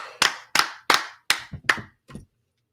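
A few people in a history class clap at dismissal, giving about six sharp, separate claps that slow and trail off, near and fairly loud, with no talk.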